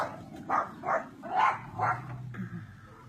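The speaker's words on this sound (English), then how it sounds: "My dogs are having a fit, as you guys can hear." Several sharp dog barks in quick succession, about four or five, fairly close, followed by a softer yip, with no talking.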